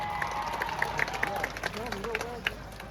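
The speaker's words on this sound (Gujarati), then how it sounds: "એકવાર જોરદાર તાળીઓના ગણગણાટથી વધાવી" Crowd applause and clapping rise at a tribal community political rally in Dediyapada, held in heavy rain in support of Chaitar Vasava. The sound is a steady, moderate patter of many hands mixed with a speaker's voice.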